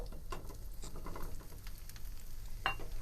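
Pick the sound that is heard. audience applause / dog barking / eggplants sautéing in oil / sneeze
eggplants sautéing in oil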